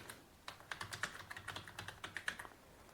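Keys clack on a computer keyboard while English text is typed into an online form, a quiet, close run of uneven taps with brief pauses and no voices.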